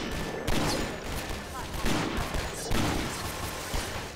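Rapid gunfire from a weapon in Garry's Mod, a loud sustained stream of shots with several heavier bursts punctuating the four-second string.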